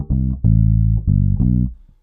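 An electric bass guitar plays the second bar of a bass line, with a few clear, deep, sustained notes and short gaps between them, played alone and close.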